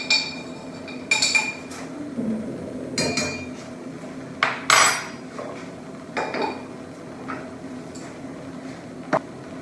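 Cups, dishes and cutlery clink and knock on a counter while coffee is poured, a series of sharp close chinks spread irregularly over a low background, with no talking.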